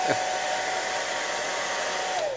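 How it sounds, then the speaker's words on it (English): A hair dryer on a low heat setting blows steadily at close range, drying a shield-shaped coaster, a constant whooshing hum with a faint high whine, running alone without a break. "the best tool in the shop, the hair dryer"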